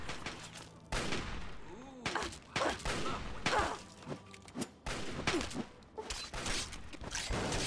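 Rapid gunshots in the video game Fallout 3, arriving in repeated sharp bursts and volleys with brief gaps between them, loud and close, with some mechanical clatter in between.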